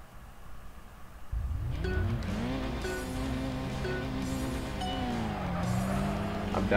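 Race car engines in the Kaido Racer 2 street-racing game, an MR2 supercharged among them, rise in pitch with a whining rev and squealing tires after a quiet start, staying loud and steady under faint voice.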